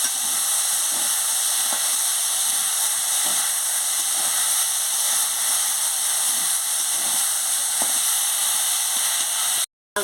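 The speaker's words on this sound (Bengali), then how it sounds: "লঙ্কার গুঁড়োটা দিয়ে দিচ্ছি পরিমাণ মতো দিয়ে আলুটাকে ভালো করে একটু ভেজে নিচ্ছি হালকা" Potatoes fry lightly in oil with turmeric and chili powder for a bitter gourd chorchori, a steady hiss with occasional faint stirring knocks, cutting off abruptly at the end.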